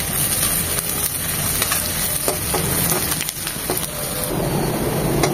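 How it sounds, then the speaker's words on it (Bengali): Chopped onion, garlic and dried chillies fry in hot oil, a loud, continuous crackling sizzle with occasional stirring scrapes and sharp pops, close and alone. "দিয়ে দিব 2 চামচ পেঁয়াজ কুচি। একদম ভাজা ভাজা হবে, পেঁয়াজটা নরম হবে"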